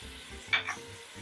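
Onions, peppers, tomatoes and garlic frying in oil for a vegetable spaghetti sauce, a soft steady sizzle with a brief louder burst of hissing midway as garlic is added, close and quiet with no talk.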